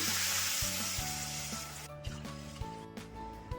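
Water is poured into a hot pan of fried coconut and wheat semolina and hisses with a loud, bright sizzle that dies down abruptly partway through, leaving softer bubbling and a few clinks.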